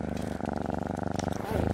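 A cat purring inside The Long Dark survival game, a close, rhythmic pulsing rumble repeating several times a second, with a voice talking over it.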